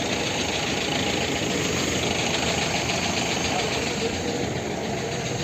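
Diesel engine of a used tractor idling at a tractor market, a steady close rumble with a faint knocking pulse that holds level throughout.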